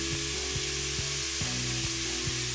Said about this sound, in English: And give it a stir now.